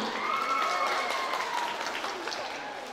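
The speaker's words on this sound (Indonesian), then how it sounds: "Beri tepuk tangan yang meriah." An audience at a school dance and karawitan performance claps warmly for a few seconds, the applause slowly fading while a faint tonal ring lingers beneath it.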